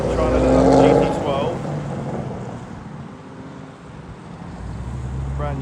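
An Aston Martin Vanquish supercar passes by, its engine noise loud near the start and then fading away, with people talking nearby and a steady outdoor background.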